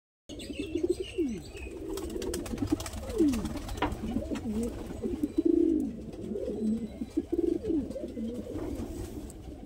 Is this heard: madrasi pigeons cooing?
yes